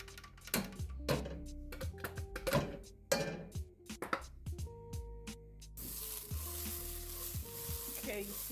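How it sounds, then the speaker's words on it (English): Walnuts frying in an oiled pan while being stirred, a steady close sizzle broken by repeated scraping, knocking strokes of a utensil against the pan, with no talk over it. "you see walnut and cooking those down. We're just gonna keep on stirring it."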